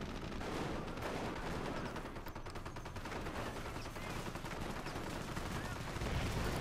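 25-pounder gun artillery fire in the Company of Heroes video game, dense rapid bursts of distant booms and gunfire rattling steadily throughout, faint and layered in a busy battle mix.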